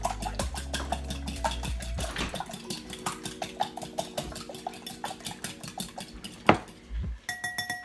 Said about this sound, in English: we're going to whisk these eggs